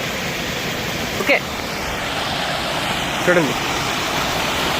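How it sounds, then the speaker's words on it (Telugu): Steady broadband rush of a hillside waterfall at Penchalakona temple, water pouring down continuously at close range, with someone speaking briefly over it twice. "అలా పడుతున్నాయి వాటర్"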